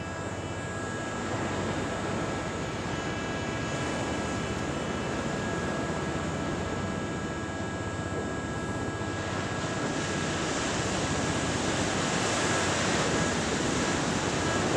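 Ocean waves roll in steadily on a San Francisco beach, a broad, loud, continuous wash of surf with no talking over it.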